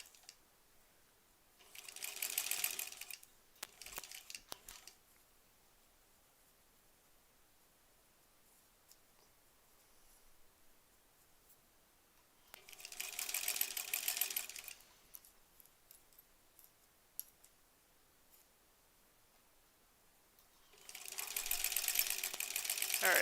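A sewing machine stitching quilt seams on a granny squares quilt, three bursts of fast whirring stitching separated by quiet pauses, close and clear.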